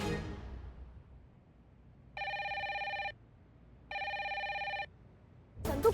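A telephone rings unanswered, two long electronic bursts with a pause between, clear and alone in a quiet room, then a sudden noise at the end.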